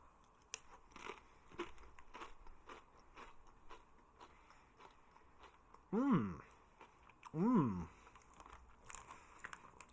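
Crunchy bites and chewing of Doritos Twisted Queso tortilla chips, close and fairly quiet, with a couple of louder vocal sounds briefly breaking in partway through.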